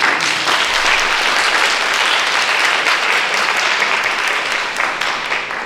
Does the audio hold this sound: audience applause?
yes